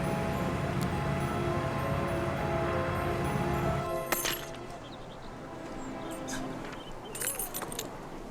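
A set of car keys jangles and clinks steadily for about four seconds, then falls quieter, with a few brighter metallic chinks near the end over faint background noise.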